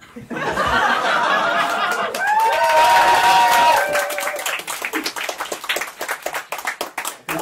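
A comedy club audience bursts into loud, sustained clapping mixed with laughter and chuckles, then thins out into scattered, uneven claps.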